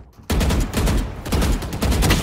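Rapid gunshots in the shooter Valorant, a sudden loud onset of close bursts repeating in quick pulses for about two seconds, sharp and dense with no voices.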